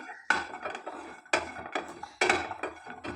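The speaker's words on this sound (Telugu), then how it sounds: "ఈ పచ్చి కొబ్బరిని ముక్కలుగా కట్ చేసి ఈ విధంగా వేయించుకోవాలి" Fresh coconut pieces, cut from raw coconut, tossed and fried in a pan, giving three loud bursts of scraping and clattering from a utensil against the metal, each trailing into a softer rustle.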